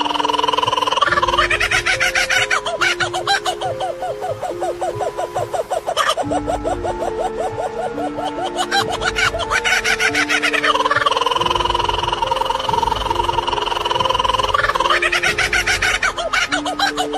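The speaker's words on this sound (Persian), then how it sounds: "شماره 7 کوکابورا" A kookaburra calls loudly in long, rolling, cackling laughs that rise and fall in repeated rhythmic bouts, close and dominant throughout, with no human voice.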